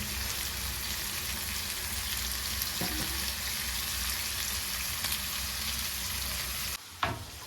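Chicken pieces frying in oil in a pan, a steady, moderately quiet sizzle that holds evenly for several seconds, broken near the end by a soft clunk and a brief dip before the hiss resumes.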